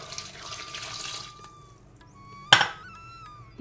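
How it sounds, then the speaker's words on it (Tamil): Water poured into a pressure cooker over chopped bottle gourd and cumin, a soft trickling splash building then fading, followed by a sharp clatter of a vessel or lid nearby. "இப்போது இது மூழ்கிறதுக்கு தண்ணி ஊற்றிக்கோங்க."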